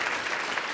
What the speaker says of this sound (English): we want to give you an extra round of applause for being here today